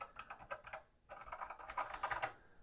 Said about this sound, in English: So we know the keyboard works in memo pad